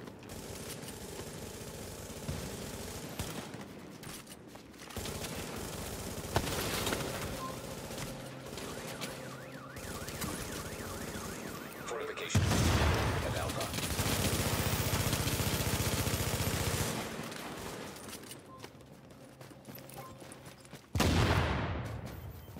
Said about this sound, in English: Hostiles are firing on a fortification.